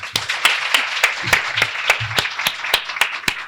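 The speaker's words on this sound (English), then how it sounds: "You guys give yourselves a round of applause for being here." Steady audience applause at a women's conference, a room full of hands clapping with sharp individual claps standing out over a continuous dense patter.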